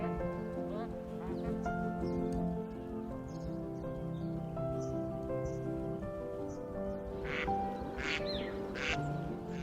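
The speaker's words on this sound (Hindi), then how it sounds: "हर सर्दी के मौसम में दुनिया भर से प्रवासी पक्षी यहां आते हैं। उनकी चहचहाहट भरतपुर को एक अनूठी आभा से भर देते हैं।" Ducks and migratory birds at the Bharatpur wetlands keep up a dense, steady chorus of quacks and calls, with a soft, rain-like hiss underneath throughout.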